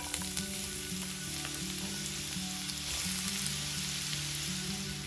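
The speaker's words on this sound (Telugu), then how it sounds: "ఆయిల్ వేడయ్యాక 2 మీడియం సైజు ఉల్లిపాయల్ని ఇలా సన్నగా ముక్కలు కోసి వేసుకోవాలి" Two medium onions, thinly sliced, frying in two tablespoons of hot oil in a pan, a dense continuous sizzle close up with light stirring, over quiet background music.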